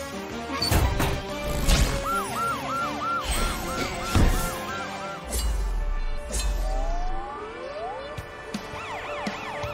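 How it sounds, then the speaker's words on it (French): Cartoon police truck siren wailing in repeated rising-falling whoops, loud and close, amid crashing impacts and cartoon action sounds in a chase after a robot, with no talking over it. "Sa sirène lui ouvre la voie."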